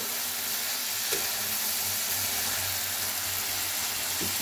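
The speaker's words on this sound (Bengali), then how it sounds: "আমি এখন মুড়োটা দিয়ে দিলাম, ভাজা মুড়োটা একটু দিলাম, এর সাথে একটু কষিয়ে নেব" Fried fish head sizzles in oil with cabbage in a pan, a steady dense frying hiss with faint stirring clicks, heard close.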